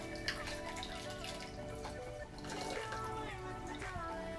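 Hot water running from a bathtub faucet, a steady close pour that keeps going the whole time with no talk over it.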